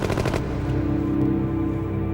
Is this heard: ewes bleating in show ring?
no